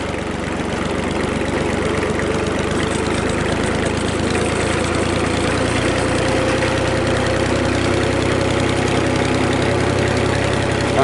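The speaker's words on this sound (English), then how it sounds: "Now let's get on the tractor" A tractor engine idles steadily, a continuous low rumble with a fine rhythmic chug, close and even in level throughout, with no voices.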